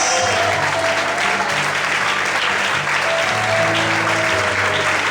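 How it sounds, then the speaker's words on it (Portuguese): Church congregation applauding loudly and steadily in praise during a worship service, dense sustained clapping with sustained musical tones from instruments underneath throughout. "glorifique e aplauda o Senhor bem forte, em nome de Jesus"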